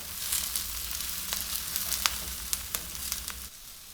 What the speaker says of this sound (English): I'm going to lower the fire at this point to medium and swish this around for a little while